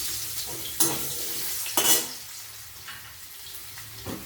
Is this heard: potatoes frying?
yes